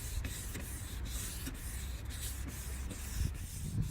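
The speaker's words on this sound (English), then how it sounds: "until that is gone, we will use the sandpaper. Make it good wet." Wet sanding an oxidized, milky plastic headlight lens with 800 grit sandpaper, a steady close rasping scrape in repeated left-to-right strokes, continuous with no talking.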